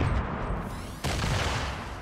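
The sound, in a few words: grenade explosions in the video game Fortnite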